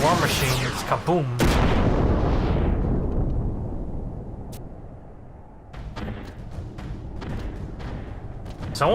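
A big booming explosion in Final Fantasy XI erupts with a sharp crack and heavy rumble, decaying over several seconds, then smaller distant bangs and clatter follow.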